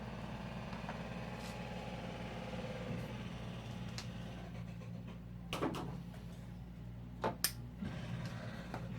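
A Classic Mini engine idles steadily after a thermostat and gasket replacement and a coolant top-up, a low constant hum with a few brief clicks and knocks near the end.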